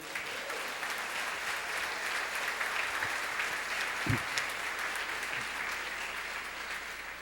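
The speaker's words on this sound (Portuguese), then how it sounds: "Você pode aplaudir Jesus por isso?" Church congregation applauding during an evening sermon, steady, sustained clapping from many hands at moderate level throughout, with a few sharper claps and knocks standing out.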